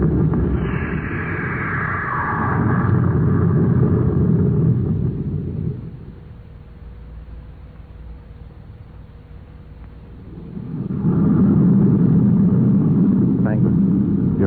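A spaceship's jets fire for blast-off as an old-time radio sound effect, a loud roaring rumble that swells, drops away and swells again.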